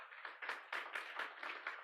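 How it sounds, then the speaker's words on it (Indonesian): Congregation at a church service clapping in a steady, rhythmic beat, roughly four claps per second, moderately loud and close, with no talking over it. "Gak ada tepuk tangan buat Tuhan."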